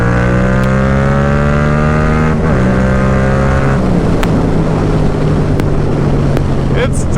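A Yamaha FZ-07 700 cc motorcycle accelerates hard in third gear. The engine note climbs loud and close under heavy wind roar, with a rise that breaks twice as the revs change.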